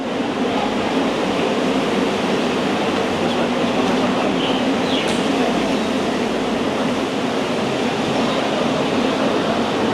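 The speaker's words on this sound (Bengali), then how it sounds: "এই যে এটা হচ্ছে গিয়ে আমাদের ট্রেন" A Penang Hill funicular train runs as a steady, continuous rumble of wheels and rail noise, broad and unbroken for the whole stretch with no voices on top.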